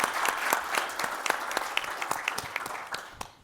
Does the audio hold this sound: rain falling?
no